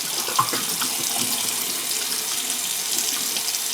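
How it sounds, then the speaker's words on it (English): A tap runs steadily into a bathroom sink for a cold face rinse after a shave, a close, even rush of flowing water with no talk. "let's do a cold rinse real quick"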